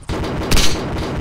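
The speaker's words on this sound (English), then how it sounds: "Shoot that BRDM in the wheels." Gunfire hits a BRDM armored vehicle in the video game ARMA: one sharp, loud burst rings out over a steady, rumbling engine drone.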